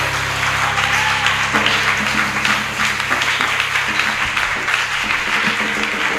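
A church congregation at a Sunday service applauding and cheering together, a steady wash of clapping with voices over a sustained musical backdrop, loud and continuous throughout.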